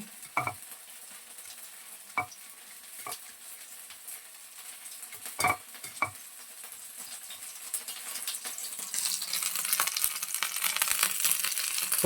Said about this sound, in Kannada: ಈ ಥರ ತವಾ ಮೇಲೆ ಶಾಲೋ ಫ್ರೈ ಮಾಡ್ಕೋತಾ ಇದ್ದೀನಿ